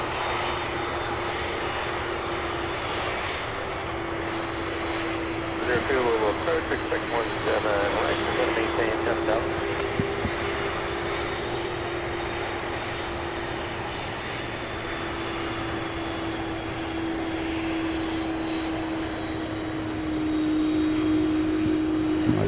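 A McDonnell Douglas MD-11 cargo jet at Louisville airport, heard as a loud, sustained jet-engine roar that stays steady throughout, with a person talking over it.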